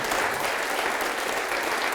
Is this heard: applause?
yes